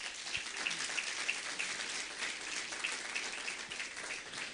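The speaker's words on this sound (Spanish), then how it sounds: "vamos a dar fuertes aplausos" A church congregation at a Sunday service applauds with dense, even clapping that sounds faint and distant, like a steady patter with no voices on top.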